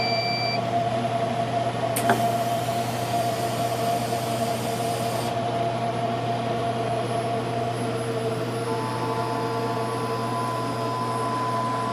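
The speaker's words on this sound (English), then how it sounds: "by pressing this button, I turn the fuel cell on" A fuel cell test rig, switched on by a button, hums steadily with a constant electrical tone and fan-like whir, with a brief click and a short high whine early on and no talking.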